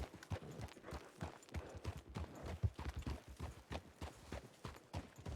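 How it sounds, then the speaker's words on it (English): Quiet, steady clip-clop of a horse's hooves in the game RedM, walking at a brisk rhythmic pace, heard faintly from a short distance. "Loud horse."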